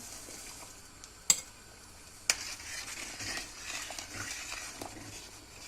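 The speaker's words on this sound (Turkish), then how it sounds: "Ve güzelce karıştıracağım şekerim eriyene kadar bu şekilde." A spoon scrapes and clinks against a pot of boiling milk, rice and sugar for rice pudding, with two sharp knocks early on and soft bubbling and sizzling underneath.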